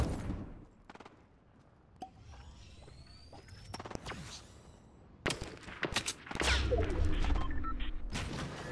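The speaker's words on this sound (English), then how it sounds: "there's someone shooting" Fortnite gunfire crackles in scattered bursts, several sharp shots and thuds spread through the scene, a few distant and faint, then denser and louder near the end.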